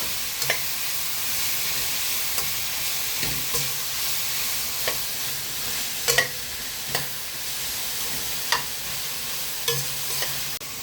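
Radish and onion greens being stir-fried for an egg poriyal sizzle steadily in a pan, a constant hissing fry broken by repeated scraping stirs of a spoon every second or so, close and alone without talk.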